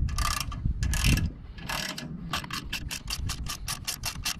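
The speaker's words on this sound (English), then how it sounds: "I'm going to remove these two 10 millimeter bolts." Quick bursts of clicking come from a ratchet working 10 millimeter self-tapping bolts out of a backup plate on an early 80s GM vehicle, first in short spurts, then as a fast, even run of close, crisp clicks.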